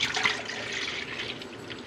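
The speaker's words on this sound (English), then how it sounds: "we're going to add ½ gallon of milk to my pot." Half a gallon of milk pours into a cooking pot on the stove, a soft continuous liquid splash lasting a couple of seconds.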